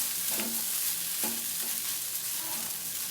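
Flattened rice (aval) upma is stirred in a hot pan, a soft steady sizzle broken by a few brief scraping strokes of the spoon, fairly close and with no talk.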